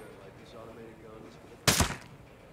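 An automated gun turret in Ghost Recon Breakpoint fires a single short, sharp burst, loud against a quiet ambient background.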